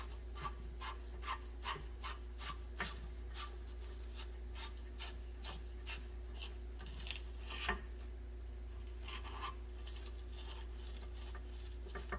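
Brass bushings in the wiper linkage of a 2014 Buick Encore being scraped clean, giving a steady series of faint, short rasping and rubbing strokes over a constant low hum, with no talking.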